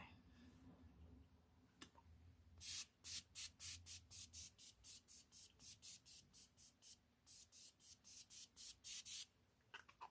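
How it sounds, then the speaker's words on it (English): Morphe matte setting spray mists in about twenty short, sharp bursts close to the mic, fired in quick rhythmic succession, with faint room tone before the first sprays. "we're just gonna Morphe setting spray"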